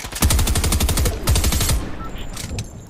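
Rapid automatic gunfire from the video game Fortnite, loud and close, in two long bursts of quick repeated shots that trail off into quieter distant pops.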